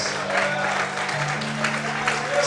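A church congregation claps together, a steady wash of applause with a sustained tone running underneath, heard throughout the room while voices carry over it.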